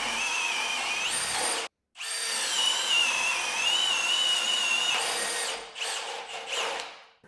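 A Milwaukee cordless drill, 2904 or 2804, boring holes with a spade bit: a loud, close, high motor whine runs for several seconds, stops briefly, then resumes and winds down in short bursts.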